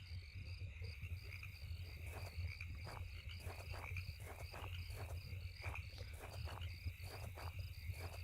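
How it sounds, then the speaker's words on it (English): Crickets and frogs chorus at night in the video game Home: steady high insect trills over repeated low croaks in a regular pulsing rhythm, faint and continuous. "As we enjoy the sound of crickets and bullfrogs, or regular frogs"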